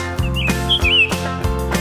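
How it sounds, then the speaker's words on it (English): Birds chirp and tweet around a farm in a close, loud sequence of short repeating calls with bright warbling whistles, heard alone without speech. "the birds go as they fly around the farm"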